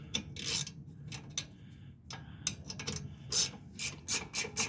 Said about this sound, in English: Ratchet, this is just how you're gonna have to pull it off